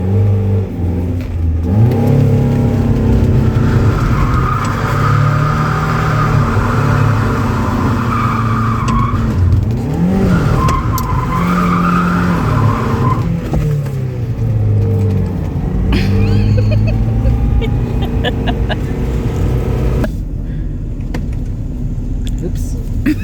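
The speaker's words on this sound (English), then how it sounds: "That's all clutch slipping right there." A salvage Mazda Miata's engine revs hard as its slipping clutch lets the revs surge and sag, loud and sustained for most of the run, with voices mixed in over the drone.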